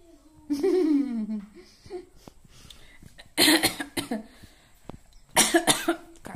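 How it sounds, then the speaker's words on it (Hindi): A person coughs several times in short, harsh bursts, separated by quiet pauses, close to the listener. "खांसी हो रही है"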